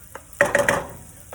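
Tomato is added to softened onions frying in a pan, with a few clinks of a utensil and a brief sizzle and stir up close, and no one talking.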